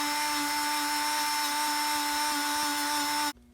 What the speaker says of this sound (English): all I'm using is a Black & Decker rotary tool with some of this